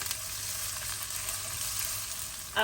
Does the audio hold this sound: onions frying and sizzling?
yes